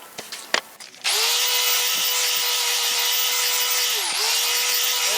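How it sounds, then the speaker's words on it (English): A band file power tool starts up after a few knocks and runs steadily at high speed, grinding on metal during a Ford Maverick brake upgrade, loud and close with a brief dip in pitch partway through. "Got the old trusty band file over here. Just gonna get with it and hook it up."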